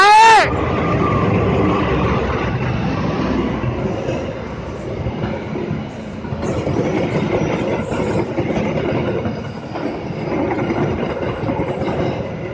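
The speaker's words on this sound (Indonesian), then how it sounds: "melintas langsung kereta api Argo Parahyangan dari stasiun Bandung tujuan akhir stasiun Gambir dengan nomor KA 37A" The Argo Parahyangan passenger train, Bandung to Gambir, passes close by with a loud, continuous rumble and rhythmic clatter of wheels on rail joints, sustained for the whole stretch after a brief horn at the start.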